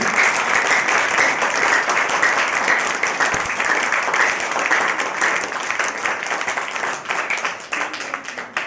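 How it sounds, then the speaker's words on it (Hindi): Steady, dense applause from a church congregation during a sermon, clapping continuously throughout and thinning slightly toward the end. "एक ताली परमेश्वर के लिए बताइए"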